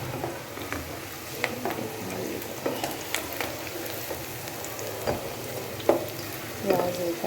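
Onions frying in a pan for keema give a steady close sizzle with scattered stirring clatters and utensil scrapes, while faint talk drifts in the background.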